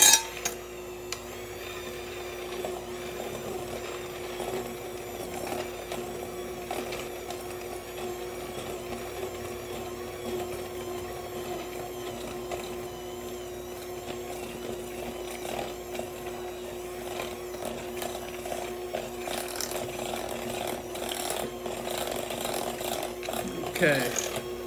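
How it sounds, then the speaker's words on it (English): An electric mixer beats cream cheese and powdered sugar into frosting, its steady motor hum running throughout at moderate volume while a person talks over it. "when you go to turn on your electric mixer"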